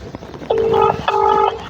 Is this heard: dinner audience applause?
no